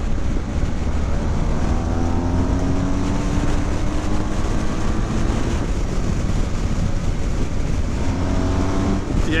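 A BMW R1250GS motorcycle engine pulls hard under acceleration, with rising and falling engine tones as the quick shifter and blipper snap through gears, loud and continuous alongside steady wind rush.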